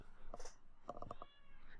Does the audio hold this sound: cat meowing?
yes